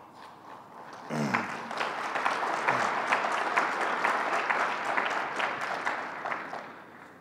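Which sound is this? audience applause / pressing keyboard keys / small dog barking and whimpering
audience applause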